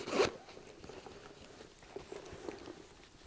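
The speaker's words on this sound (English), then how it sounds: "Zip pocket at the back." A single quick zip on the back pocket of a leather luxury handbag, one sharp close rasp at the start, then faint handling rustles and soft taps in a quiet room.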